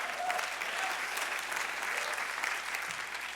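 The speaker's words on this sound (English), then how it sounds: "You can applaud that." A live audience applauds during a talk by Erwin McManus, a steady, dense wash of clapping that holds at an even level throughout.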